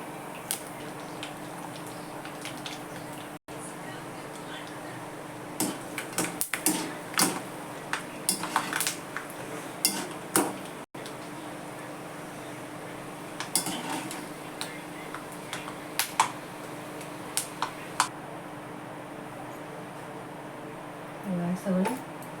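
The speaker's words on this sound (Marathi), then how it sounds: "तेल चांगलं तापलं की मस्त पटापट साबुदाणा तळला जातो" Sago pearls (sabudana) fry in hot oil for a fasting chivda, giving scattered sharp crackles and pops in loose clusters over a steady low hum, with no talking.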